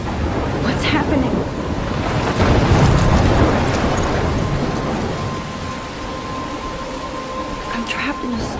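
A thunderstorm in the video game Life Is Strange brings dense, loud, steady rain with a deep rumble of thunder swelling in the middle, while a voice speaks briefly over it.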